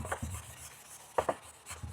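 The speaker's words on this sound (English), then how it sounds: "I will be using a wet sanding method" Wet sanding excess filler on a Yamaha R125 motorcycle part with light pressure: soft, scrubbing rubs in a loose rhythm, a few sharper strokes near the middle, close and quiet with no talk.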